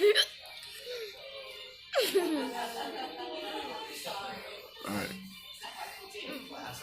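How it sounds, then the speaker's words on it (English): A child's sharp hiccups come through at close range, a couple of abrupt catches breaking into ongoing talk and giggling. "You don't have any more hiccups, do you? I just got one."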